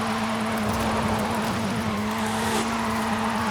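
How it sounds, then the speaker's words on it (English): A front-wheel-drive Lynk & Co car drifting, its tires burning and squealing in a sustained high screech over a steady engine drone, close and loud without pause. "Now we're just burning the tires off and not doing anything."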